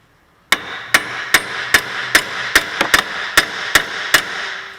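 Hammer blows on beveled parts of a front bearing assembly, about eleven sharp metallic strikes in a steady rhythm after a moment of quiet, close and loud with no talking.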